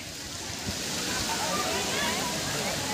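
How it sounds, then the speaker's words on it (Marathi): A continuous rushing wash of falling water from a small waterfall fed from both sides, in Sanjay Gandhi National Park, Borivali, Mumbai, steady and fairly loud throughout. "दोन्ही साईडून पाणी येते मध्ये इकडे"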